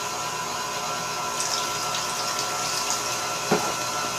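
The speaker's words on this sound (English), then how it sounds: "We'll add a little bit of water." Water poured into a cake mixture during Halloween treat baking gives a steady, close hiss of flowing liquid that runs throughout, with a brief soft knock near the end.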